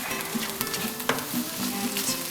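Frozen vegetables and teriyaki chicken with onion and teriyaki sauce sizzle steadily in a frying pan, a close, continuous crackle with light stirring scrapes and one sharp clink partway through.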